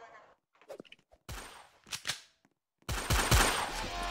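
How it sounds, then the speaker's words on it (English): Gunshots in a Roblox duel arrive as a few scattered sharp cracks, then a dense, loud burst of rapid fire near the end, with quiet gaps between. "I just shot him twice."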